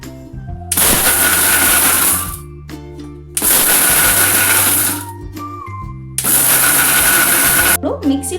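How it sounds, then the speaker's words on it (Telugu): A kitchen mixer grinder coarsely grinds almonds, green gram and flax seeds in three loud bursts of whirring, each about two seconds long, with short pauses and faint clatter between them. "ఇప్పుడు మనం ఈ మిశ్రమాన్ని మిక్సీ పట్టుకుందాం."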